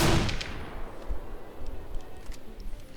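A machine gun in the video game Fallout: New Vegas, a loud opening shot fading into a rapid, fairly even run of lighter rounds that keeps going to the end.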